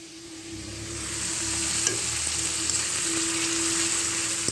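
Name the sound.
ground spice paste frying in oil for tilapia curry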